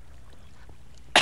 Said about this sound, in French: Petite toux discrète que Zosh aime tellement.